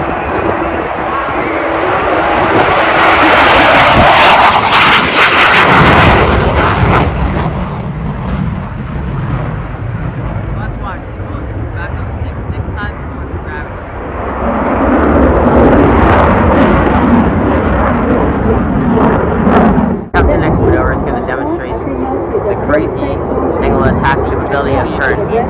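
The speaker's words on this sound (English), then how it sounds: "Let's watch for the red hot afterburner in the tailpipe." A jet aircraft flying at an airshow with its afterburner lit gives a loud, broad roar that swells, fades and returns as it passes, with speech running under it.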